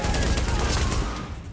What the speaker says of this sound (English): Shoot that shotgun guy.